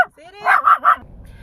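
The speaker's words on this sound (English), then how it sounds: "she's barking at people" A small female dog lets out three quick, sharp barks close by, following a brief whine, with a faint low rumble of background noise after.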